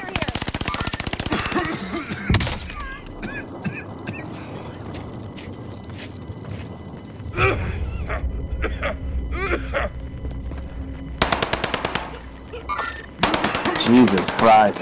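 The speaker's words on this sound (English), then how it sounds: "Taking heavy fire here." Heavy automatic gunfire in Call of Duty: Modern Warfare, with dense rapid bursts at the start and more loud bursts near the end, separated by quieter battle ambience and sparse shots while voices talk.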